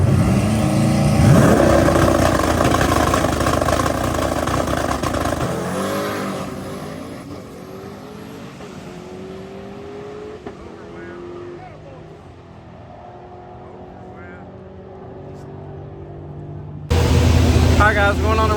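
A pro mod drag race car in a stick shift class launches hard down the strip, its loud engine roar dropping off after a few seconds and fading into distant crowd noise, with another engine bursting in near the end; people talk throughout.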